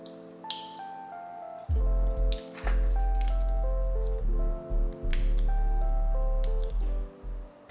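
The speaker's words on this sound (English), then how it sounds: "Remove the seeds from about 4 dried chilies." Seeds are pulled from dried chilies by hand, with crisp crackles and brittle snaps of the dry pods close up over a low hum that cuts in and out.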